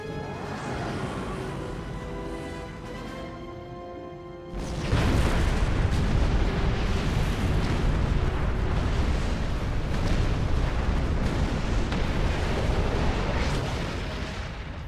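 A planet killer blows apart in Star Trek Online, a sudden loud roaring explosion breaking in over tonal music and rumbling on as a sustained heavy blast for about ten seconds.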